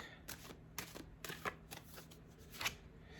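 Tarot cards are shuffled in a quiet room, giving a series of soft papery riffles and flutters in short irregular bursts, close and fairly faint with no talking.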